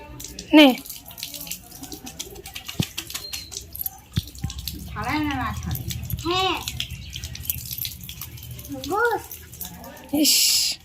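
Water gushes from a tap in a village, splashing in loud bursts that start and stop. Voices talk and call out between the splashes.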